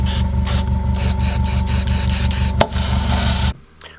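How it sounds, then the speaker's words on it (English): Hairspray is sprayed in a series of quick, close hissing bursts over a Kratos tank miniature, with one sharp tap partway through, before the spraying cuts off into near silence. "put a layer of hairspray over the top"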